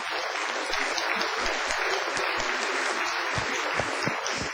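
Sustained, dense applause fills a school board meeting as the audience honours a group of students, steady and close with no voices rising above it.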